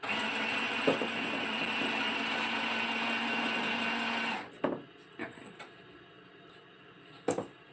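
A sewing machine winds thread onto a bobbin with a steady, close mechanical whir for about four seconds, then stops, leaving a few small clicks and handling sounds in a quiet room.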